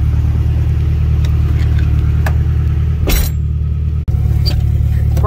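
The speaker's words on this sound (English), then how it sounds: "I'm going a little test drive real quick, make sure it goes through all the gears" Car with a freshly installed Syncrotech transmission and competition stage 4 clutch on a test drive, a steady low engine drone throughout with a brief thump near the end.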